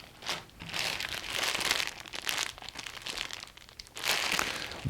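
Plastic parts bags from a Tamiya Dynahead 6X6 RC kit crinkle and rustle close by in uneven handling bursts, louder at the start and near the end, with no talking.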